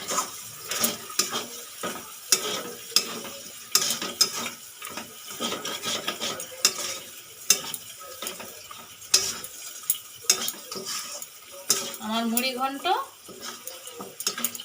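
A fish head muri ghonto made with Gobindobhog rice is stirred in a pan, giving intermittent scraping and soft sizzling, with light utensil clinks and a brief clatter near the end.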